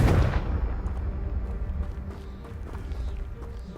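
A Confringo blasting spell explodes in the video game Hogwarts Legacy, with a loud blast at the start that trails into a rumbling, crackling tail for a few seconds.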